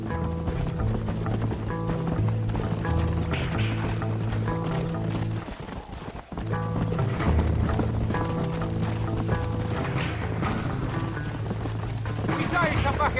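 A horse's hooves clip-clop in a steady, rapid galloping rhythm in the Red Dead Redemption video game, loud and close, with a musical score playing underneath and briefly dropping out midway.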